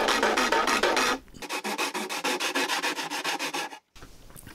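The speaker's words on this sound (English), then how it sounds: "A file and some sanding to clean up the hole." A file and sandpaper clean up a cutout hole in a model aircraft cowl. First comes a run of rhythmic rasping strokes, then a quicker series of short scraping rubs, close and fairly quiet.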